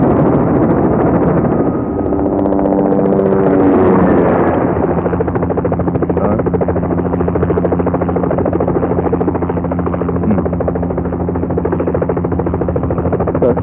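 A helicopter in a film scene drones loudly and continuously, its rotor thrum and turbine whine filling the whole stretch, with a rising tonal sweep early on before settling into a steady, close roar.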